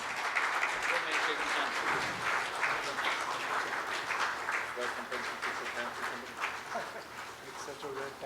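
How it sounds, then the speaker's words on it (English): Audience applause at a lecture-series ceremony, a dense continuous clatter of many hands clapping that holds steady for about eight seconds before easing slightly near the end. "Ladies and gentlemen, can we have a big round of applause?"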